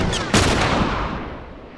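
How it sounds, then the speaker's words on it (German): A single sharp gunshot rings out in The Last of Us, loud and close, with a burst of noise that decays into a long reverberant tail and no talk over it. "So, noch ein Schuss. Noch ein Schuss."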